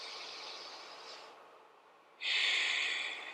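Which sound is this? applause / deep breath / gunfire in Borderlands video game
deep breath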